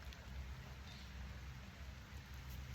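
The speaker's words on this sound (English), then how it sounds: "Oh, it's starting to rain." Light rain begins to fall outdoors in Orotina, Costa Rica, a faint, steady patter and hiss with no voices over it.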